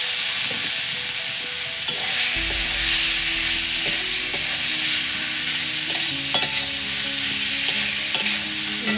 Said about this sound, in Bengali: মশলাটা হয়ে গেছে, এবার এগুলো দিয়ে একটু কষবো।